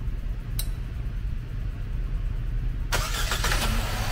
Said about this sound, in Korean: 네, 굉장히 부드럽게 시동이 걸리고 있습니다.